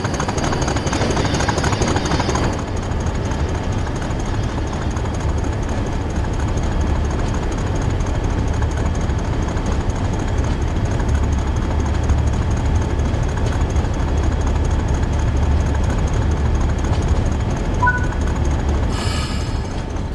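A Class 40 diesel locomotive engine on the Northern Trans-Pennine route in Train Sim World 3, throbbing loudly and steadily throughout as power is applied. A brief higher tone joins near the end.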